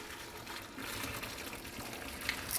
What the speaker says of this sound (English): Let's pour the water out